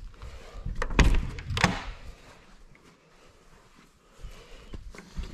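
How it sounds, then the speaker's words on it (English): A sliding latch on an aluminum snowmobile trailer slides in and locks itself, giving two close, sharp metallic clunks about half a second apart, then quiet handling noise with no talking. "It just slides it in and it locks itself on there."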